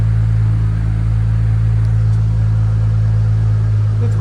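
A Dodge car engine idles while it warms up, a steady, loud low rumble with a constant hum that holds without change throughout.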